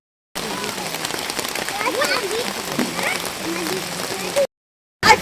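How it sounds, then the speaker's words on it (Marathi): Heavy rain pours steadily during a temple visit, a dense continuous hiss that cuts off abruptly near the end, with voices talking over it throughout. "आता बराचसा पाऊस सुरू झालाय."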